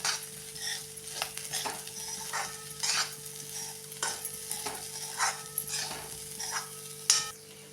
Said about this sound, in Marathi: ही भाजी आता चांगली आपण परतून घेऊया